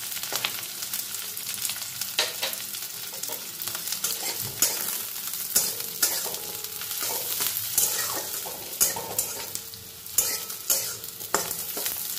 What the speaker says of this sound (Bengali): কাজুগুলো একটু নাড়াচাড়া করে